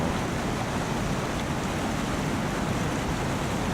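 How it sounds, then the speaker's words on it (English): Ocean waves on the Pacific coast roll in as a steady, dense broadband wash of surf, continuous and fairly loud throughout without distinct breaks, with no voices present. "And there's the waves again."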